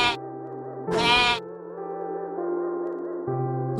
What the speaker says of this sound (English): Look, here is a sheep.